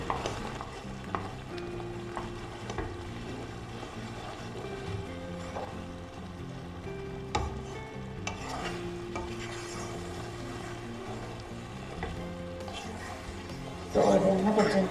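A sweet milk pongal (akkara adisal) is stirred in a pan, giving steady scraping and rubbing under background music.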